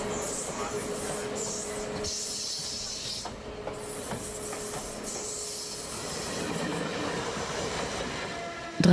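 A train rolls along its rails on a long journey, giving a steady rumble with clacking wheels, hiss and some squealing, heard close up and fairly loud, with a sharp knock at the end.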